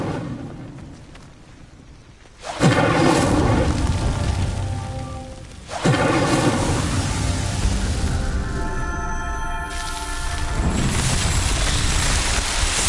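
In Hogwarts Legacy, an Incendio fire spell lights a pyre: two sudden whooshing bursts of flame follow each other, each settling into a steady loud roaring crackle that carries on to the end.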